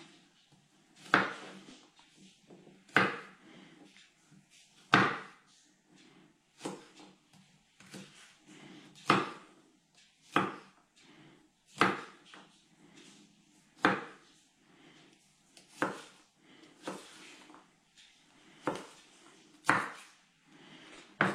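A knife chops garlic into small pieces on a board, a dozen or so sharp, distinct knocks at a loose, irregular rhythm, close and clear with quiet gaps between strokes.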